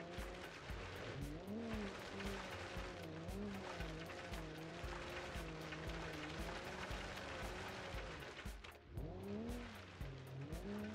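A 1970s land yacht's big engine roars under hard throttle, revving up and down in continuous waves with tire squeal and skidding over a steady drone, close and dominant throughout.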